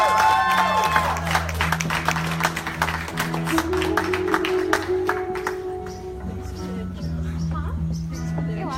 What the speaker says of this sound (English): So if we could start clapping, we're already snapping